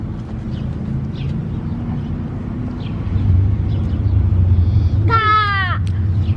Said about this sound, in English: I hear it. It's a big car